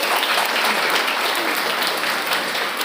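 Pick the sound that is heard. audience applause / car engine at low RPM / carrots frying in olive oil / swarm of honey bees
audience applause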